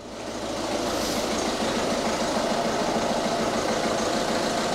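A rough-running 1.6 diesel engine in a 2009 Ford Fiesta idles steadily after an oil change, producing a constant close mechanical clatter and rumble with no voices.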